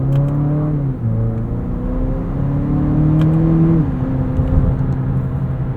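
A 2025 Nissan Murano Platinum AWD with a 2-liter turbo engine, recorded from inside while driving. Its engine drone holds steady and then shifts pitch as the transmission downshifts, loud and continuous with no talking.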